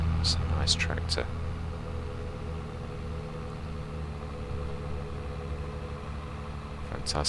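Tractor engine in the video game Farming Simulator 22 (X8 tractor) hums steadily at a low idle throughout, with brief bursts of talk near the start.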